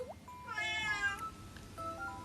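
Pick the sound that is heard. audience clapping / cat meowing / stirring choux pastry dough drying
cat meowing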